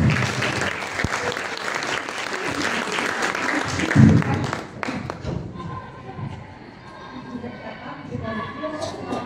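Audience applause for a primary-school fourth-grade pupils' comedy show, loud and sustained with a few thumps, fading to quieter crowd noise and scattered claps after about five seconds.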